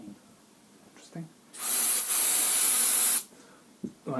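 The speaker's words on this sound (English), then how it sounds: "Right, so that sound is the sound of isopropyl." Isopropyl alcohol sprayed from a can while cleaning the underside of a Sony Betamax SL-C20/C30/C40 deck, a loud steady hiss lasting about a second and a half, with faint handling noises before and after.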